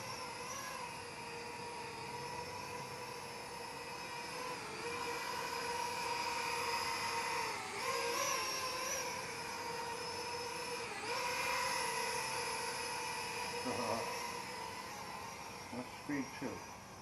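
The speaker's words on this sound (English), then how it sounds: "that's a good little drone right here" A small Q11 LED night-flying drone whirs with a steady, high-pitched buzz of its propellers, holding near and fairly even throughout, with slight pitch shifts as it maneuvers.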